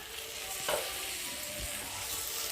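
Chopped tomato and green chilies fry in a hot pan with a steady hiss, a close, even sizzle broken by a few light scrapes of a spatula, with no voices.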